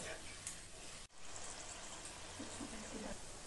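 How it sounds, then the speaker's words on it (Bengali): Water pours into a simmering pabda fish curry in a pan, a steady rushing gush with a brief break partway through, fairly faint overall. "এখন পরিমাণ মতো জল দিয়ে দেব"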